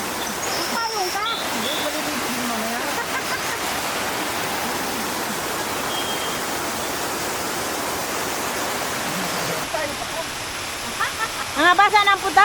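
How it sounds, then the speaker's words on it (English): The Palasanon waterfall roars in a steady, broadband rush that stays loud and continuous throughout. People talk over it and a voice rises near the end. "So, bigger waterfall,"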